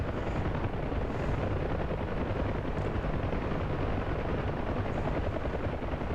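Rotors of a UH-1 Huey helicopter in the DCS flight simulator thump in a loud, close, continuous drone with a rapid rhythmic chop, unbroken for the whole stretch and without talk.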